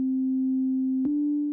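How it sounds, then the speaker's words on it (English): A steady synthesizer sine wave tone holds at one low pitch, loud and clean, with a brief click near the end before the same tone carries on alone. "you can for example pick a sine wave by clicking on this arrow or choosing from the menu."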